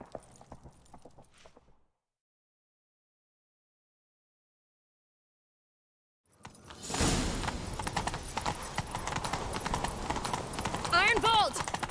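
Horse hooves clip-clopping in a fast chase in the video game Witcher 3, rapid and loud after a silent gap, with a brief snort or whinny near the end.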